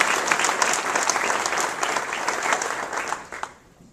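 An audience at a NASA agency awards ceremony applauds with dense, steady clapping that holds for several seconds, then tapers off and fades out at the end.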